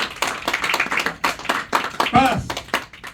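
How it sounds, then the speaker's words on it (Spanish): A church congregation claps in rhythm, a steady run of hand claps filling the space, with voices and a brief sung or shouted tone rising over it partway through. "Den un aplauso al Señor."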